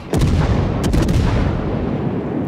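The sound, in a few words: warship guns firing at another ship, World of Warships video game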